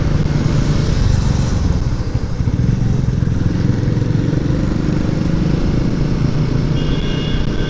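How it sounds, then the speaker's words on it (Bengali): Royal Enfield Himalayan 450 motorcycle engine droning steadily while riding on a road, a loud continuous hum with small throttle fluctuations and no talk. "ইঞ্জিনের আওয়াজটা আসছে সেটাই, না হলে এই যে থ্রোটেল দিচ্ছি"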